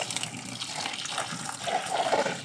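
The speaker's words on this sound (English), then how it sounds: "boil some hot water and just" Hot water poured from a kettle over fresh pho noodles in a bowl, a continuous close splashing gush that grows slightly fuller toward the end, with no voices.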